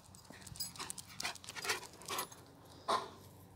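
A dog trots closer, panting and with paws tapping on the ground, no voices, fairly quiet and close.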